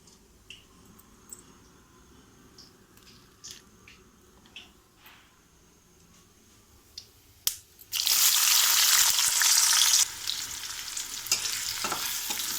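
Onions tipped into hot oil with mustard seeds and cumin, as the soft crackle of seeds is suddenly overtaken by a loud, dense hiss that stays strong and steady, with stirring clicks underneath.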